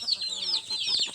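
Farm chickens cluck close by in short, busy bursts, with a brief chorus of several birds overlapping.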